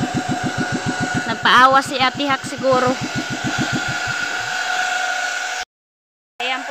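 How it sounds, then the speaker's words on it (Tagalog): An irrigation water pump's engine runs close by with a steady, rapid chugging pulse. Voices talk over it, and the sound cuts out briefly near the end. "Ang ingay po ng patubig nila"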